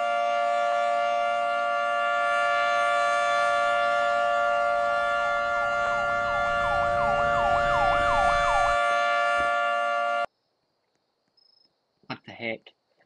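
A civil defense siren in the Roblox game Greenville sounds a loud steady tone that then warbles and winds down before cutting off abruptly, followed by brief faint noise.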